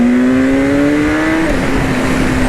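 A 2012 BMW S1000RR motorcycle engine revving hard under acceleration in third gear, a loud close-up rising whine that shifts pitch partway through with heavy wind noise around it.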